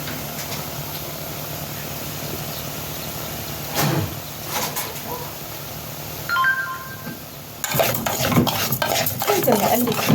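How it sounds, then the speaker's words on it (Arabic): Red rice for fish stirred continuously in a pot, close scraping and shuffling that grows busier and louder toward the end, with a faint sizzle underneath and a brief clink midway. "نفضل نقلب فيه كده على طول عشان ما يتحرقش مننا"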